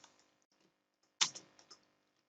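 A computer keyboard being typed on, a short cluster of a few sharp key clicks after near silence, close and quiet.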